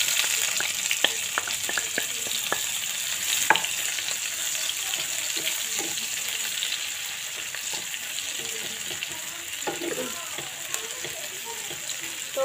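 Dried chilies and onions sizzle in hot oil for a taro leaf bharta, a continuous frying hiss with occasional stirring clinks, close and moderate in level.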